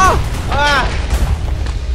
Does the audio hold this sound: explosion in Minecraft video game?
yes